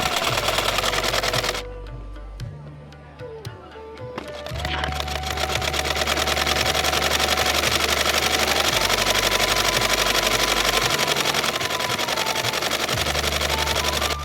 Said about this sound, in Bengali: এখনো তারা পায়ের সাহায্য এই সেলাই মেশিনগুলো চালায়।